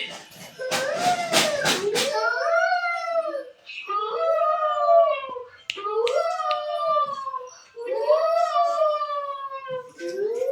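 A voice imitates a jackal howling in a children's story, with long rising and falling wavering howls repeated in several loud, close phrases, preceded by a few sharp snapping sounds.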